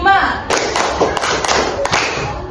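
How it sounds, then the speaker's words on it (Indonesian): Hands clap several times in a rhythmic sequence of sharp, loud claps, with a voice speaking between them. "Tepuk 1, tepuk 2, tepuk 3, tepuk 4"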